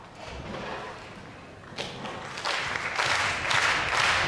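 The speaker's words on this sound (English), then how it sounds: "Barnsley applause to see the player over the line" A crowd at a ten-pin bowling match, the Weber Cup, breaks into applause that swells from scattered claps into broad, sustained clapping, with a thud at the start.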